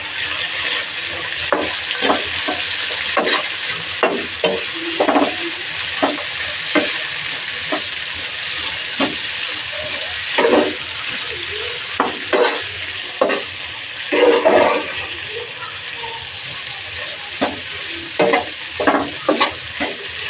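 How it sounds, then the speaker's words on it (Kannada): Mustard seeds, cumin, green chilli and onion stir-frying in a pan, a steady sizzle broken by repeated loud scraping strokes of a spatula in an uneven rhythm, close and with no one speaking. "ಸಾಸಿವೆ, ಜೀರಿಗೆ, green chilli, salt, onion friends ಚೆನ್ನಾಗಿ ಮಿಕ್ಸ್ ಮಾಡ್ಕೊಳ್ಳಿ."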